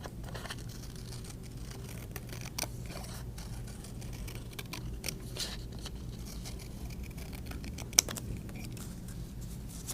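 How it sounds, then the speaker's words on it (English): Scissors cut out a small paper tree skirt template at a children's craft camp, making soft, faint snips and rustles with a few sharper clicks, close and quiet, with no talk. "I'm gonna have you go ahead and cut out your tree skirt template"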